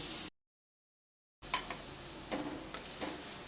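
Masala paste for a paneer and cauliflower curry fries in a pan over medium heat, a soft, steady sizzle with faint stirring ticks. It resumes after a short silent gap.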